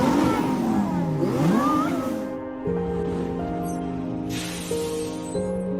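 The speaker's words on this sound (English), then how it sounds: "here is a Lamborghini parade" Lamborghini cars in a parade rev and accelerate, a loud rising and falling engine wail giving way to steadier, layered engine tones from several cars passing.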